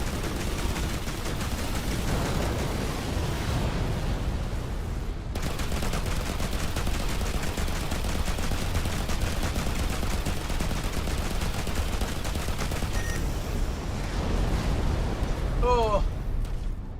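Spaceship weapons fire steadily in the space game Between the Stars, a dense, loud barrage of rapid shots and blasts. The din barely lets up, and a voice and a brief tone come through near the end.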